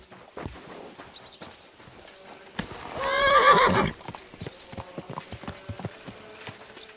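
Hooves clip-clop steadily while a horse lets out one loud whinny mid-way in the video game Kingdom Come: Deliverance II, close by, with no talking.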